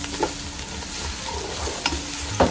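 Garlic sautéing in hot oil before fish is added, a constant close sizzle with a few light stirring scrapes and no speech.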